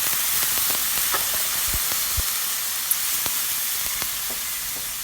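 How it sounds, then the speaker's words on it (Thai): Pork stir-fries in a pan for northern Thai mustard green curry, a constant close hiss and sizzle broken by scattered scraping and stirring taps. "ผัดไปเรื่อยๆนะคะผัดให้หมูรัดตัว"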